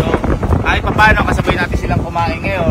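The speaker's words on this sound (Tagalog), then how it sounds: "Kasi, kita mo, lumalakas na may hangin." Strong wind during a heavy nighttime rainstorm buffets the microphone in a constant rough roar, with voices talking underneath.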